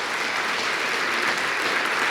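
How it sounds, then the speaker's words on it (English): A conference audience gives a sustained, dense round of applause, loud and steady throughout with no talk over it. "Yes, round of applause."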